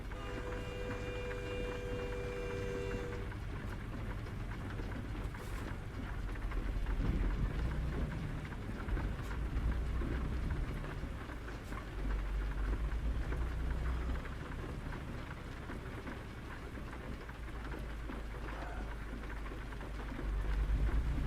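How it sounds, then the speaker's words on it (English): Steady heavy rain pours throughout a long stretch of a truck simulator drive, with low rumbles of thunder swelling underneath and an engine-like tone early on; no one speaks. "The dang rain would stop just a little bit."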